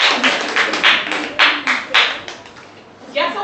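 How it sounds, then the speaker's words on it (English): Scattered clapping from a small group in a clinical supervision session, several irregular bursts of hand claps at close range, with a brief pause near the end before one last clap. "Clap them as they go."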